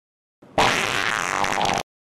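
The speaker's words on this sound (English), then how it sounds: "Then fart on this cartridge." A single loud, sustained fart lasting just over a second rings out close by with a rough, buzzing texture and no talk around it.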